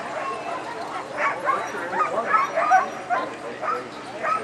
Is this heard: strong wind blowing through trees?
no